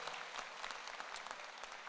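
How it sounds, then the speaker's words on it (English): Convocation ceremony audience applauding in honor of a late usher, a steady, distant wash of many hands clapping without pause. "So give him a round of applause."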